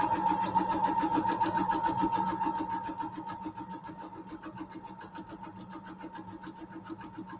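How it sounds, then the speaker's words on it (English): A sewing machine runs in a fast, even mechanical rattle, close by, easing slightly in speed partway through and continuing steadily without any talk. "And now let's sew on the line."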